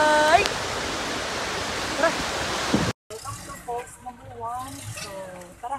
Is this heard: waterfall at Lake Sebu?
yes